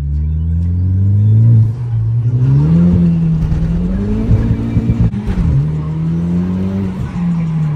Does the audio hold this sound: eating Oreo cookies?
no